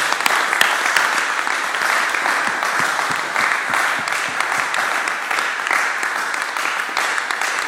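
A church congregation applauds loudly to acclaim God, a dense, sustained ovation of many hands clapping evenly throughout, with faint voices mixed in beneath it.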